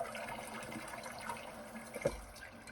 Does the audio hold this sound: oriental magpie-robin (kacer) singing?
no